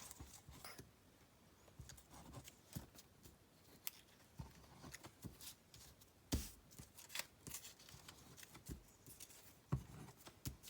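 Scissors trim paper craft pieces for a Christmas project, with quiet, irregular snips and small paper rustles close by and no talking.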